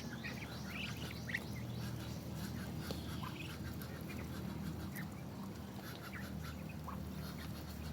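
A flock of domestic ducks quacks continuously at close range, overlapping calls and honks over a steady low background rumble, with no talk.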